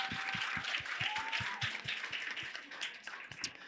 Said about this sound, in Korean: 우리 한번 이렇게 솔직하게 이야기 나눠주신 세 분께 큰 박수 한번 좀 부탁드리겠습니다